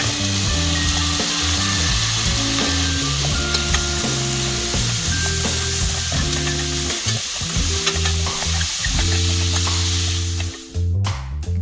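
Pork frying in a pan with brown sugar for kimchi jjigae sizzles loudly and steadily, with tonal music playing underneath, before the sound cuts away abruptly near the end.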